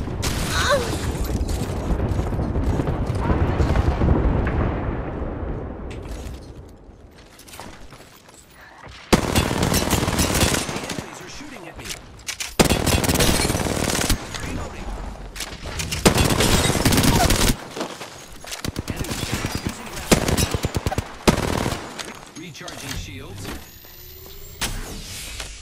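Video game gunfire opens on the enemy in repeated loud bursts of automatic fire separated by short pauses, following a stretch of low rumbling action with a voice talking over it.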